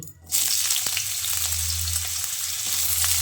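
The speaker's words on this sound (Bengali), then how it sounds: "তেল ভালোভাবে গরম হয়ে এলে কেটে রাখা আলুটা এই তেলের মধ্যে দিয়ে দিচ্ছি।" Cut potatoes drop into hot mustard oil in a kadai, setting off a sudden loud, steady sizzle that keeps hissing close and even, with faint crackles throughout.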